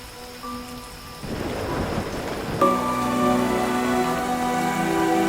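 Heavy rain pours steadily and a rumble of thunder swells midway, then the downpour keeps drumming at a louder level over a faint background tone.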